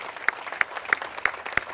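At an outdoor gathering in Gordon Park marking fifty years since the 1967 Detroit riots, a handful of crisp, evenly timed claps sound in a steady beat, close by and moderately loud over a faint background.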